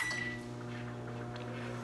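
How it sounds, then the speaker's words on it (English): A microwave oven hums steadily while melting coconut oil for soap making, a close, even drone with a brief high beep-like tone at the start and no talking. "So we're gonna put our coconut oil into the microwave for 30 seconds."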